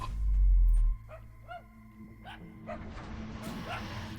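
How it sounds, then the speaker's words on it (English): A spirit-dog puppy in The Devil Within: Satgat gives a series of short, high yips and barks, several in quick succession, over a low game background hum after a brief loud thump. "Okay, we found our first puppy."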